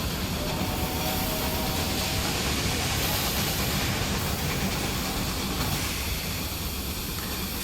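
Trains running in the Railway Empire 2 video game produce a dense, continuous rail rumble and hiss, steady and loud across the whole stretch with no talk over it.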